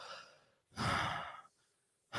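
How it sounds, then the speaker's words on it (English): A person breathes normally in a quiet room, a soft fading exhale, then a clear, close inhale lasting under a second and another breath starting at the end. "when you're breathing normally like this"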